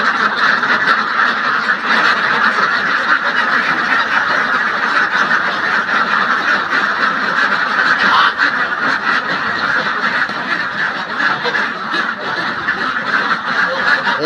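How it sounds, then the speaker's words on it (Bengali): A dense flock of farm ducks, some of them sick, quacks continuously and loudly at close range, a steady overlapping din with no pauses and no voices. "ওই পাশে 2টা হাঁস দেখেন বসে আছে।"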